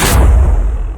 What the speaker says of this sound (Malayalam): പോയ വഴിയിൽ ഒരു ഡോങ്കി ഓടിച്ച ലോറി ഇടിച്ച്